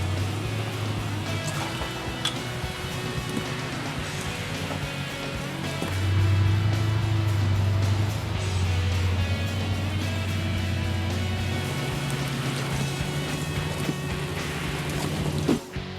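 A Jeep CJ8 Scrambler on its first off-road trail run, its engine a steady low rumble that swells and drops as it drives, with broadband rattling and crunching from the rough terrain throughout.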